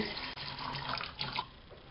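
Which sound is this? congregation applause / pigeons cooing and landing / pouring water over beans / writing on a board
pouring water over beans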